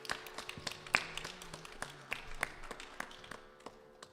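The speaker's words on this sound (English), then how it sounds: "Round of applause for Karina." Faint, sparse clapping from a small gathering at a Friday night satsang honours a child's second birthday, a few scattered claps and taps rather than full applause, heard from a distance.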